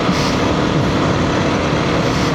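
Harley-Davidson motorcycles ride past on a desert trail near Fort Churchill on the California Trail, making a loud, dense, continuous engine roar and rumble throughout.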